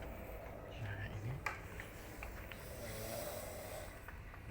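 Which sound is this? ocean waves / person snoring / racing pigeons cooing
person snoring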